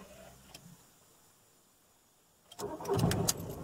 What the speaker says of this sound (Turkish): Aracımızı çalıştırdık.